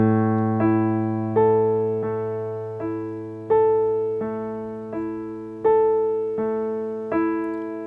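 Solo piano plays the gentle repeating pattern D, a low A bass note held beneath evenly spaced broken-chord notes struck about every three-quarters of a second, close and clear with no talking.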